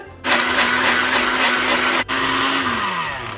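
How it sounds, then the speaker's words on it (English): A kitchen blender runs loud and steady with a strained motor whine, cutting out for an instant partway through before revving again and then slowing as the pitch drops near the end. "what's the point in having a blender if you have to help it?"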